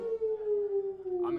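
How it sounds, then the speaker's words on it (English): A lone howl from a wolf or dog that holds a steady, slowly falling pitch for over a second, clear and fairly close, with faint background noise and no speech. "I'm hearing a wolf howl."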